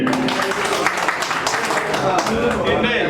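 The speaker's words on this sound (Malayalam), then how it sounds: "അപ്പൊ എല്ലാവരും കൈയടിക്കേ" A hall audience clapping at a prize-giving during a general body meeting of a Kerala quarters owners' association, a steady dense patter of applause under a voice speaking into a microphone.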